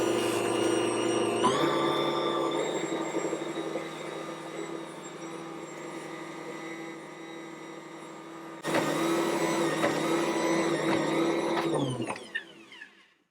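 Ankarsrum stand mixer kneading bun dough, a steady motor hum with a harmonic whine that shifts pitch partway through, then runs louder again before spinning down at the end.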